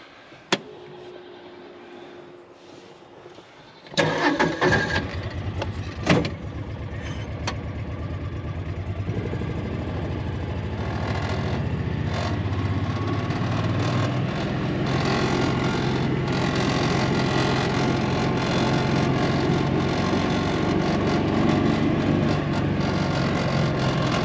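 Vehicle engine starting after a few clicks and knocks, then settling into a steady running hum as it drives toward a barn, nearby and without speech.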